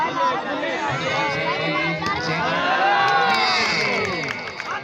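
Crowd noise at the final match of a Thal club tournament, Gondal vs Rodi Club: dense, continuous cheering and shouting with chatter, close and loud for the whole stretch, a voice calling out over it.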